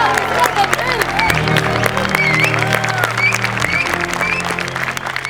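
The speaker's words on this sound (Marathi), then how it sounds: "जोरात टाळ्या." Studio audience at a comedy show giving loud, sustained applause, dense rapid clapping filling the whole stretch with some crowd noise mixed in.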